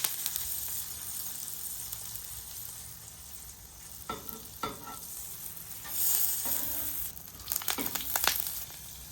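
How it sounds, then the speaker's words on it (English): Bacon grease and butter sizzle on a flat-top griddle, a steady close hiss with sharper crackles and spatters bursting through in the second half, no voices. "So let's get a little bacon grease down. A little piece of butter."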